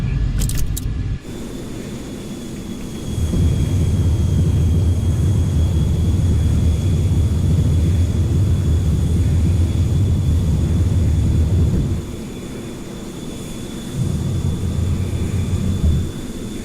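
An F-14 Tomcat jet taking off in Microsoft Flight Simulator, a steady loud engine roar that swells and holds for several seconds, dips briefly, then resumes, with a short clicking burst at the start.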